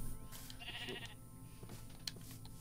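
Sheep in the Minecraft video game bleat softly over a busy game soundscape, with the bleats faint and partly masked by background tones and music.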